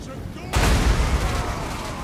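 Artillery fire in a Warhammer battle game, a sudden heavy boom that cuts in and then rumbles on steadily with a deep, sustained roar.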